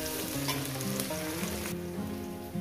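Onion and green chili frying in a pan, a steady close sizzle with light stirring scrapes, layered over a melodic tonal background that runs the whole time.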